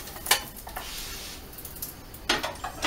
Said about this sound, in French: Je prends mon assiette. Mon omelette. Je la fais glisser dedans.